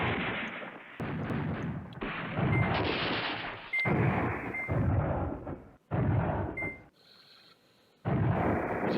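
Artillery barrages from the wartime strategy game Command Ops 2 boom in repeated heavy, loud bursts, with several dense blasts separated by short gaps of quiet.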